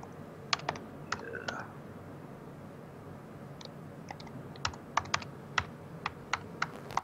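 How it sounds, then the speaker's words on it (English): Computer keyboard typing, a few scattered close clicks early on, then a quick run of sharp keystrokes, over a faint room background. "Hold on a second, because I need to type"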